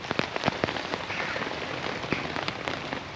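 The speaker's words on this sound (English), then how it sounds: "enjoy the sound of the rain hitting the trees" Heavy rain patters steadily on trees and tent fabric at a campsite, with heavier drips landing now and then throughout, close and continuous with no voices.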